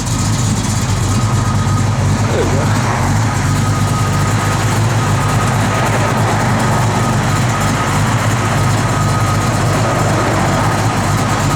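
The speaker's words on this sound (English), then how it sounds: "Blower motor does work, guys. You can hear that little cam working in it now." The heater blower motor of a 1965 Ford Mustang 2+2 runs with a loud, steady broadband whir that holds constant throughout, with a brief spoken remark near the start.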